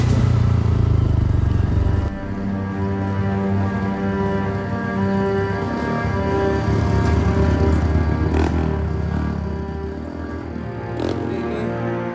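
A loud motorcycle engine rumbles steadily throughout, with clattering and jolts as it rides over a bumpy rural village road in West Java.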